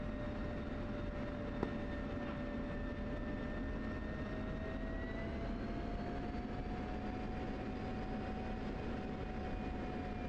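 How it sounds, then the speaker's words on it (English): A flight of aircraft performs a night-time staggered takeoff at ten-second intervals, giving a steady, loud engine roar with high whining tones that slowly rise in pitch, with no talk. "Okay, flight, we'll do a 10-second staggered takeoff tonight."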